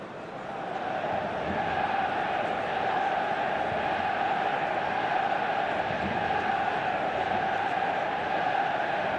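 Large stadium crowd roaring and chanting steadily before kickoff of a Manchester United vs Lazio match in the eFootball 2026 video game, a dense, continuous wall of cheering that swells early and then holds level throughout.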